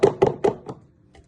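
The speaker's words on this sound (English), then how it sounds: "You want to get all that out and give it a good tap." Four firm knocks of a container rim against a mixing bowl to shake plain flour into sugar for a chocolate brownie cheesecake, evenly spaced and close, followed by a faint fifth tap.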